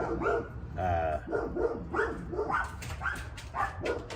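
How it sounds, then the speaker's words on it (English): Several dogs bark repeatedly in an uneven burst, fairly close, with overlapping yips and barks and no clear pauses. "There's another dog."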